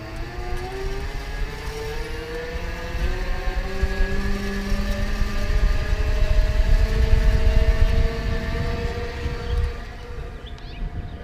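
An ElectroBike Dash electric bike climbs a hill with a continuous motor whine whose pitch rises and shifts as it strains. It is close and fairly loud, with road rumble beneath and no talking.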